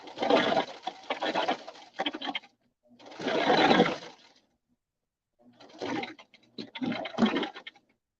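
A sewing machine stitches fabric in bursts, a few forward stitches then a back stitch, with short pauses between runs; close and moderately loud, no talking.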